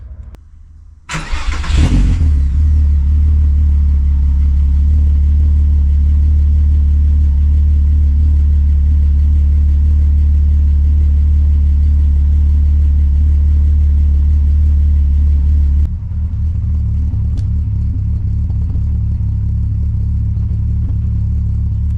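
A VR6 engine with 268 cams, stock catalytic converter and stock downpipe rumbles loudly at a steady, slightly muffled idle-level roar after a sharp start, then drops to a lower, steady drone near the end, with no talk.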